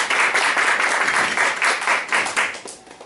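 A church congregation applauds during a Sunday worship service to welcome a guest, with steady, dense clapping filling the room for about three seconds before tapering off.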